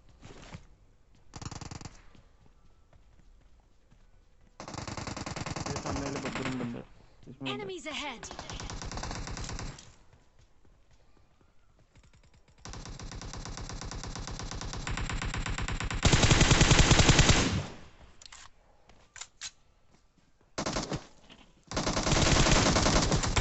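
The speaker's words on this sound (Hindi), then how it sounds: "कोई VSS चला रहा था कंफर्म।" VSS suppressed rifle fire in the PUBG video game, several bursts of rapid shots spread across the stretch, with a player speaking in between them.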